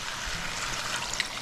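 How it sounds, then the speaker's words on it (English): Evaporated water poured into a pot of frying pumpkin for a curry, giving a steady trickling, splashing pour up close that runs continuously with no talk. "now I'll add some evaporated water"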